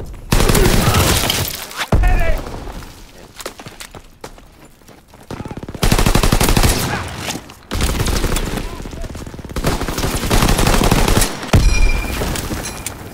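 Machine pistol gunfire in Call of Duty: WWII comes in loud, rapid full-auto bursts. Some bursts crack sharply and others roll into sustained fusillades, with brief lulls between them.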